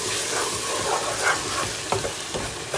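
Pan being stirred and scraped while liquid deglazes the caramelized bits for a lasagne sauce, a steady close sizzle with scraping strokes and no talk.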